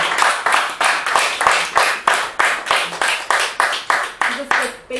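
Audience clapping in unison at the close of a Korean book-launch author talk, a loud, evenly spaced rhythmic series of about a dozen sharp claps, each one decaying quickly, with a few brief voices underneath near the end.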